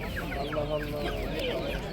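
Chickens cluck in quick overlapping bursts close by, a busy flock sound with a voice talking faintly underneath.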